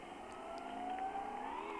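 A car engine in the game Graal Online drones with a steady, rising tone for under two seconds, moderately loud with no voices over it.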